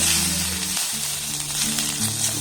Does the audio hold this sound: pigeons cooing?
no